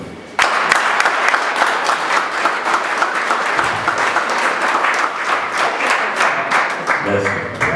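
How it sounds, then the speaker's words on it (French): Guests at an African gala party in Moscow break into sustained applause, a dense, loud wash of many hands clapping together for several seconds with a brief voice near the end. "est-ce que vous pouviez applaudir pour vous-même?"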